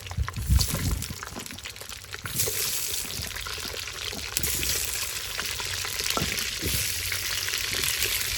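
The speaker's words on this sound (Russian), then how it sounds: "И теперь выкладываем ее и обжариваем ее в утином жире." Steady loud sizzling and crackling of potatoes frying in duck fat in a cauldron over a campfire, close by, with a few clatters early on and no talk.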